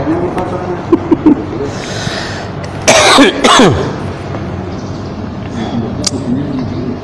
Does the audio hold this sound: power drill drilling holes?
no